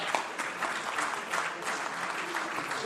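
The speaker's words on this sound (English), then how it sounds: "You can clap all you want, but that is a fact." Audience applause at an annual general meeting, a steady dense wash of clapping that holds at an even level for the full length with no voices over it.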